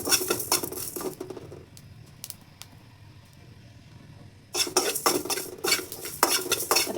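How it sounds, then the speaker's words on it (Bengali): Fennel, fenugreek and cumin seeds are dry-fried in a pan, heard as bursts of scraping and stirring with a metal utensil at the start and again near the end, separated by a quieter stretch with only faint sizzling. "এখন একটু হালকা ভেজে নিব"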